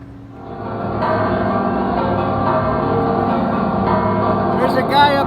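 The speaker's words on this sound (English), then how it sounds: "There's a guy up there swinging the bell." A large cathedral bell in Mexico City, swung by a bell ringer, rings with a loud, sustained, dense metallic tone that swells and holds steadily, heard close and dominating the scene.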